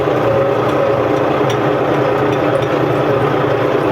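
A tractor engine runs steadily at a constant idle-like pace in the field, a continuous loud low rumble with no change in speed and no talk.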